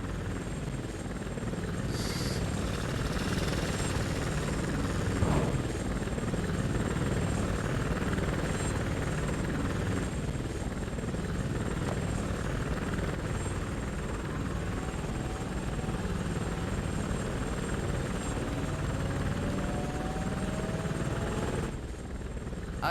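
A plane carries Moro away during a cutscene in the video game ONI, heard as a steady, loud engine drone with a constant whirring roar that holds evenly for the whole stretch and fades abruptly at the end.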